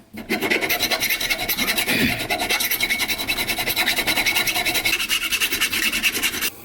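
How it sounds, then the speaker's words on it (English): A hand file rasps across the end of a brake line tube to flatten it for a Fox Body car, giving close, loud, rhythmic back-and-forth scraping strokes in quick, even succession. "So I'm going to just flatten this with a file."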